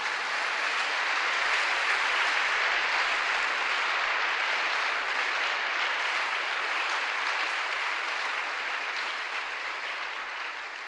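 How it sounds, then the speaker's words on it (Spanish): Church congregation applauding during a sermon, a continuous, even roar of clapping from many people that holds steady and tapers slightly near the end. "Démosle un aplauso a la iglesia."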